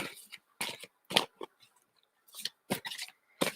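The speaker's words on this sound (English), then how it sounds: "So I am literally shuffling to get all this lovely, lovely energy into these cards." Tarot cards being shuffled by hand in a quiet studio, giving a string of short, crisp riffling bursts with brief pauses between them, close and moderately loud with no talking.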